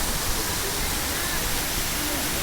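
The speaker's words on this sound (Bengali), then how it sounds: "দেখুন ঝর্ণাটা" Meltwater from ice pours down as a waterfall along the Amarnath pilgrimage route, a steady, dense broadband roar that holds even and loud throughout, close by and unbroken.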